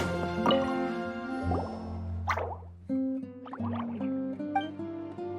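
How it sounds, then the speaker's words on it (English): Water droplets drip and plop in Genshin Impact's 3.8 summer event, several clear, resonant drops with ringing watery tones spaced irregularly over a soft musical background. "it sounds like a water droplet is on the second floor"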